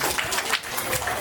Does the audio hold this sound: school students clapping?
yes